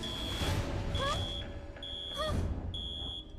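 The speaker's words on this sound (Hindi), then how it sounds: "ये लो जी, अलार्म बजने लगा।" A cartoon alarm rings in short repeated electronic beeping bursts, moderately loud, with brief animated vocal sounds mixed in between the tones.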